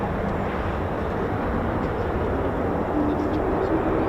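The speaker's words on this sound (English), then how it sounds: "And more F-35 startups. Got a very distinctive sound, just like the F-15." An F-35 fighter jet's engine starts up at an air force base, heard as a steady, distant broadband roar that stays even throughout with no other sound standing out.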